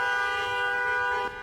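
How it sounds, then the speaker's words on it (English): Car horns honk in solidarity at a community gathering, a loud sustained blare of overlapping horn tones holding steady for over a second before dropping off, with no speech. "The sound of horns was a sign of solidarity."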